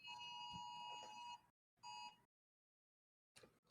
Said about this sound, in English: That was Amber Alert. Yeah, I know, I recognize that. My phone does the same sound.